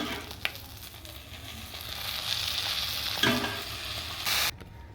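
Egg and chicken khichuri goes into a sizzling pan and is stirred, giving a steady close frying hiss with scraping. A short louder burst comes near the end before it cuts off.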